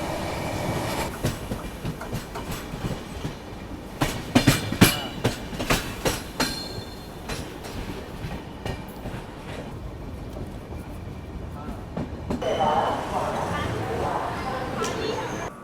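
A passenger train runs on rails, giving a steady rumble with a series of sharp clattering clicks in the middle and a brighter hiss of passing air near the end.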